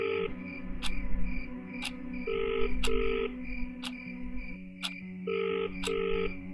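A telephone is dialed with a few sharp beeps, then a ringback tone repeats in steady paired rings over a droning background, used as a horror story sound effect.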